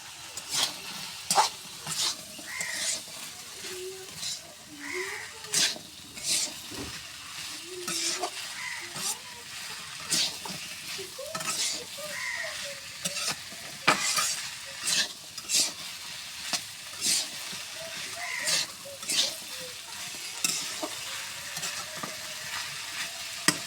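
Taro (kochu mukhi) stir-fried with dried shrimp in a pan: steady close sizzle under repeated scraping stirs and clinks of a spatula against the pan, with no talking.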